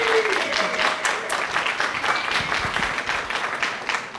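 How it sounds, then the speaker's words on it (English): At an evening queer literary event, the crowd claps in a sustained, fairly loud round of applause, with a few distinct nearby claps and faint voices mixed in. "So let's give them a big round of applause."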